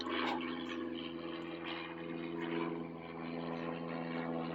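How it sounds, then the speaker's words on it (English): A low-flying airplane circling overhead outdoors, a steady droning engine hum with a sustained low tone that holds at moderate level throughout, with no talk over it. "that same plane is coming back and doing another low pass"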